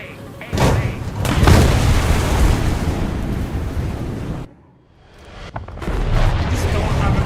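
Missile hits and explosions in the video game War Thunder during a jet air battle, a sustained loud rumbling roar that drops out briefly and returns, under a voice talking.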